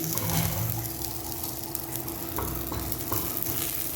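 Green chillies and masala fry for restaurant-style kadai chicken, a continuous close sizzle and crackle with occasional stirring scrapes, no voices over it.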